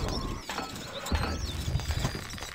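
Horse hooves gallop in the Stronghold Crusader strategy game, a quick run of thudding clip-clop beats under busy game ambience and a faint whinny-like tone.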